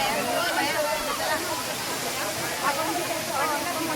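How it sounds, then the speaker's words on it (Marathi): Waterfall at Ramoji Film City, a steady broad rushing hiss of falling water, loud and continuous close by, with people talking faintly underneath. "आम्ही आता इथे वॉटरफॉलच्या समोर उभे आहे."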